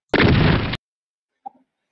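A tank cannon fires in a video game with one loud, sustained, close blast that cuts off abruptly, followed after a pause by a faint distant pop of the shell exploding.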